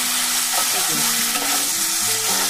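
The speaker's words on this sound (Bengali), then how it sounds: "আর দই দিয়ে কিন্তু একদম মিডিয়াম টু লো আছে কিন্তু এটাকে একবার কষিয়ে নিতে হবে" Katla fish cooks in curd with cashews and raisins over medium-low heat, giving a dense, continuous, loud sizzle with soft stirring sounds throughout; no talking.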